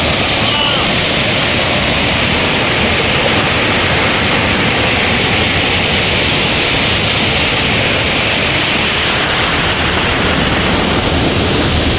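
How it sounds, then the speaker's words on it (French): Roaring waterfall in a forest, a loud, continuous broadband rush of falling water close by that never lets up, with no clear voices standing out. "Regardez-moi cette cascade."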